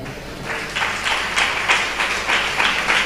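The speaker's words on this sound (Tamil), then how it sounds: "கைத்தட்டுங்க பார்க்கலாம்." A church congregation claps hands in rhythmic bursts at a Tamil Christian worship service, steady repeated claps of moderate loudness over a soft room background, with no talking.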